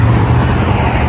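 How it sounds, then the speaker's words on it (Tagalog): Dense highway traffic rumbles loudly and continuously as cars pass close by a roadside walker, a thick low roar of engines and tire noise with no speech. "Ang dami ng sasakyan na dumadaan dyan"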